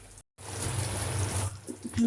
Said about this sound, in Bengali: অল্প একটু আমি পানি দিয়ে দিছি মুরগিটা সিদ্ধ হয়ে যায়